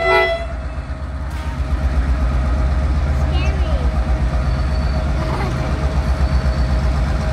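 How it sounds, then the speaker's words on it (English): The Kuranda Scenic Railway train near Cairns rolls slowly past with a heavy low rumble and squealing wheels, a brief horn at the start, people chatting nearby. "Here comes the Kuranda train."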